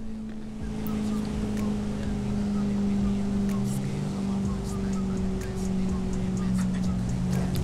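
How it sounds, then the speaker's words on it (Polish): A V8 engine in a BMW X5M in Forza Horizon 4 holds a steady, droning hum at a roughly constant pitch, with ambient road noise and faint clicks around it. "No tak na ucho to brzmi jak V8."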